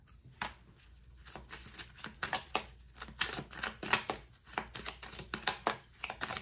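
Tarot cards being shuffled close up in a rapid, uneven run of crisp riffling flutters and soft slaps that continue throughout, with no talking.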